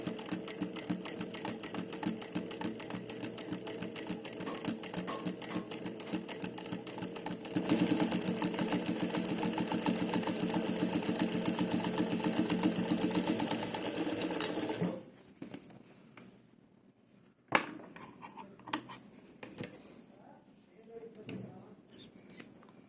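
A sewing machine runs steadily for about fifteen seconds, stitching fabric with a quarter-inch seam, then stops, leaving a few faint clicks and handling noises.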